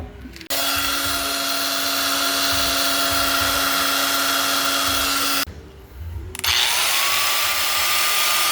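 A power drill bores into a Mitsubishi Lancer GSR headlight housing, running loud and steady with a constant whine for about five seconds, stopping briefly, then spinning up again close by.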